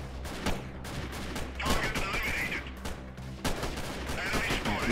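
Rifle gunfire in the video game Freeman: Guerrilla Warfare, repeated sharp shots and bursts over dense battle noise, loud and continuous throughout.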